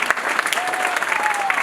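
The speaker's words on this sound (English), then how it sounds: "Okay, shall we all clap our hands?" Audience applause from students and staff at a school recognition celebration, dense, steady clapping filling the hall throughout with no pauses, a faint tonal whistle or feedback line sliding through the middle.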